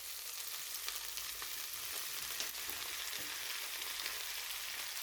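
Onion and radish sauté in a pan with a steady, soft broadband sizzle that holds evenly throughout, a few faint stirring clicks surfacing here and there, no voices.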